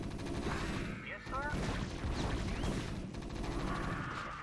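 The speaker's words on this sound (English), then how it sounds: "Those ones shooting were the Hydralisks" Hydralisks firing in the StarCraft video game: rapid bursts of crackling shots from several units that run almost without a break, layered over busy battle noise at a steady, fairly loud level.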